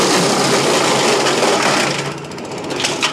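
Hansa wood chipper chewing through a piece of timber, a loud, dense, continuous grinding and shredding roar that eases slightly near the end, with no voices over it.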